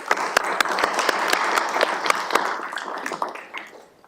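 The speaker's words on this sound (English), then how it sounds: "Can we get a round of applause for our police" A city council meeting audience applauds the police: lively, close clapping with sharp individual claps that swells, then fades out over about four seconds.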